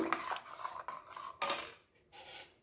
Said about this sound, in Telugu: ఇది బెల్లం బాగా కరిగేలాగా మిక్స్ చేసుకుంటున్నాను